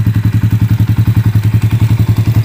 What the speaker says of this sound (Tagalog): smooth na smooth ang andar ng kanyang makina, kahit siya ay 110cc lang